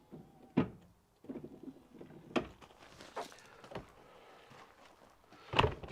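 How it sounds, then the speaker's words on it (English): A mechanical clunk and whirr of an electric caravan step motor extending and retracting, with a few knocks, close by and fairly quiet, on a 2017 Auto-Sleepers Nuevo EK. "Step is controlled via a switch just inside the caravan door"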